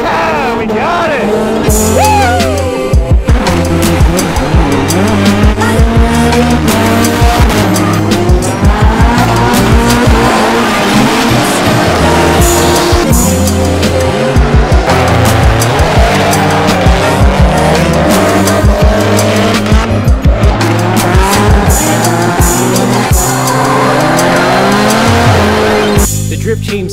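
Japanese drift car engine held at full throttle, a loud continuous roar with shifting pitch, repeated tire squeal and skidding throughout, with people talking over the noise.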